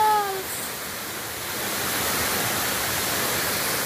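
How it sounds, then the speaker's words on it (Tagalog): Matigol Falls in North Cotabato roars as a steady, dense rush of falling water, a loud, even wash of noise that fills the whole stretch. "Welcome to Matigol Falls!"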